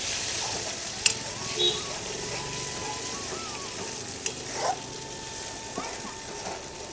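Soft, continuous sizzle of tempering spices in hot oil for a chutney, a low crackling hiss with a few faint clinks and a distant dog bark.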